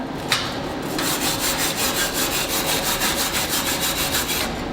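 Slag being cleaned off a fresh weld bead, a rapid rhythmic scraping and rasping of a brush or chipping tool on metal, close and steady for several seconds after a sharp initial tap, with no talking.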